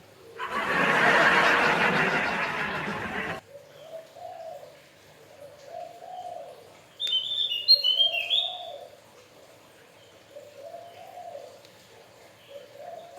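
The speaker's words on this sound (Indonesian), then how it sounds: "Tekukur lagi pada bunyi di belakang." Spotted doves call in the background with soft, repeated cooing phrases at an even rhythm, somewhat distant; a brief burst of broadband noise comes first, and sharper chirps from another bird break in partway through.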